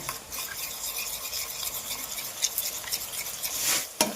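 Turmeric powder being stirred into a chicken gravy paste in a pan: a continuous scraping, rasping stir with a soft sizzle beneath and a couple of sharper utensil knocks near the end, close and moderately loud, with no voices.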